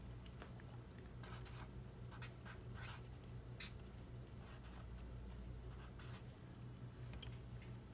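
Pencil writing decimals by hand on paper, close and quiet, with short scratchy strokes coming in irregular bursts over a low steady hum.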